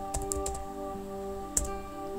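Several sharp mouse clicks land in a quick cluster early on and one more follows after a short pause, set against a faint steady electronic hum.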